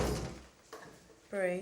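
An indoor door swings shut with a dull thump during a tense family moment, followed shortly by a brief voice.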